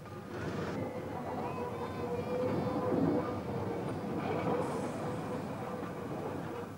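Pichi Richi Railway train on a slow uphill haul from Quorn to Woolshed Flat, a steady low rumble with faint rail clatter and occasional squeals, even and continuous throughout.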